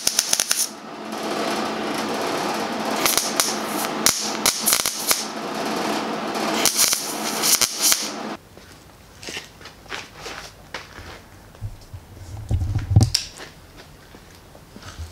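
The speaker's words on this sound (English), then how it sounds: "especially the welding, because it's a lot of sheet metal welding for that whole flare" Welding on steel sheet metal while fabricating custom fender flares for a Camaro: steady dense crackling and sputtering for about eight seconds, followed by quieter scattered clicks and taps.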